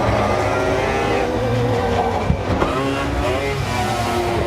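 Rotary-engined rallycross car howling around the circuit at Nysum, Denmark, a loud, continuous high-revving drone with shifting pitch that holds throughout.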